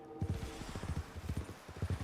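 Horse in Red Dead Redemption Online, hooves clip-clopping in a quick, steady rhythm, close and distinct over a faint background hum.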